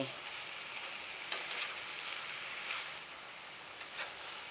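Shrimp stir-fried with fresh green peppercorns, kaffir lime leaves and fingerroot sizzles quietly in a pan, a steady soft hiss broken by a few brief louder crackles and stirring scrapes, with no talking.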